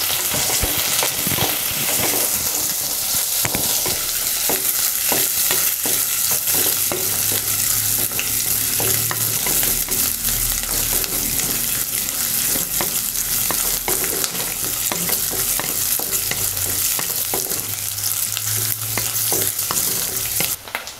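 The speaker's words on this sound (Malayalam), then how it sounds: "അതിനുശേഷം നമുക്ക് വെളുത്തുള്ളി ഇട്ട് കൊടുക്കാം, ഇഞ്ചി ഇട്ട് കൊടുക്കാം, പച്ചമുളക് ഇട്ട് കൊടുക്കാം. ഇനി നമുക്ക് നന്നായിട്ട് വഴറ്റാം." Garlic, ginger, green chili and shallots sautéing for a spicy Kerala-style tuna curry, a loud, dense, continuous sizzle with constant spatula stirring and scraping close by, with no talking throughout.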